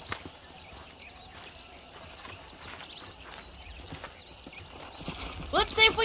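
Horse hooves clip-clop steadily in Red Dead Redemption while breaking in horses on a ranch, a regular trotting rhythm at mid distance, ending with a sharp, louder whinny near the close.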